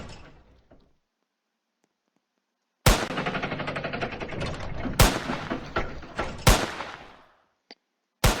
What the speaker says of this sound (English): Shooting guns is not the answer to absolutely everything, Dustin.